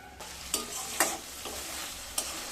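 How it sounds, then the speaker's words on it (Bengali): Spices for a vegetarian potato and soybean curry stir-fry in a pan over low to medium heat, with a steady close sizzle broken by a few sharp scrapes of the spoon. "এবার মশলাগুলোকে খুব ভালোভাবে কষিয়ে নেব লো টু মিডিয়াম স্টিমে মশলাগুলোকে ভালোভাবে কষিয়ে নিয়ে তারপর ফিরে আসছি"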